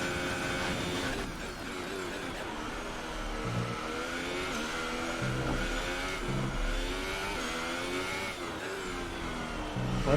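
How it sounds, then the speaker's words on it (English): Race car engine from the F1 2018 racing game during an Abu Dhabi career race, a steady high-pitched whine holding loud and continuous for about ten seconds with small shifts in pitch. "But that is a very fast car,"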